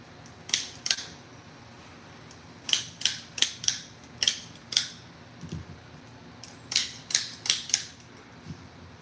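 Crisp metallic clicks of out-the-front spring-loaded knives snapping open and shut, in quick pairs and clusters, close and sharp against a quiet room hum.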